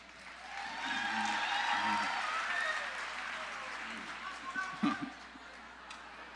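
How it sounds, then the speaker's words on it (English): An audience at an opening day speech breaks into applause: steady, moderately loud clapping from a crowd that swells quickly, holds for several seconds, then thins into scattered claps and murmurs. "That was not supposed to get an applause."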